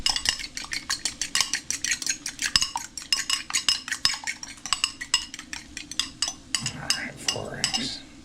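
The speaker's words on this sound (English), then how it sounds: "I'm gonna scramble up the eggs." Eggs being scrambled in a bowl, four eggs whisked with a utensil: a rapid, steady run of close clinks and taps against the bowl, loud and rhythmic, with no talk over it.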